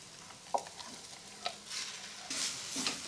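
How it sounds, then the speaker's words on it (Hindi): Dal roasts in a pan with spices and gram flour, giving a soft sizzle, light scraping stirs and occasional faint clinks of a spoon against the pan. "दाल को मसालों के साथ भूनेंगे"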